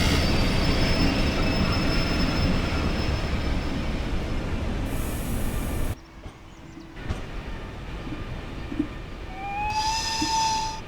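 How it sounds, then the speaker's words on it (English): In the Train Sim Germany game, a train arrives on the Mittenwaldbahn route with a steady rolling rumble, then faint wheel squeal and a rising whistle-like tone near the end, heard alone without talk. "There's another train coming in."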